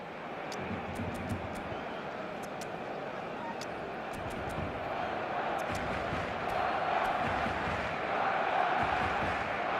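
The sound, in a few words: crowd cheering in eFootball video game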